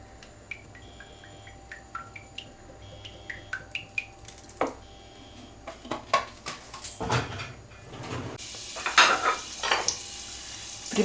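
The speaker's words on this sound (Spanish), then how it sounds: "La olla ya se está calentando, la tartera, y vamos a echar el aceite." Oil goes into a heating pot for a Galician bean and octopus stew, with clattering cookware and scattered clinks early on, then a loud broadband sizzle that swells near the end.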